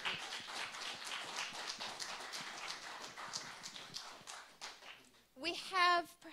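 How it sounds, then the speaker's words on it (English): Dense, sustained applause from a seated audience at a literary reading session, broad crackling claps for several seconds that fade out before a voice speaks briefly at the end. "can we have just one more round of applause for our four?"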